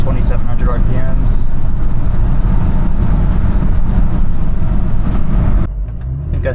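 A $15,000 sleeper SUV's engine drones loud and steady from inside the cabin, pulling through gear shifts near 2,700 RPM, with a voice talking over it before the engine note drops away near the end.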